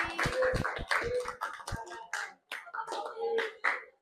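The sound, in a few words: audience clapping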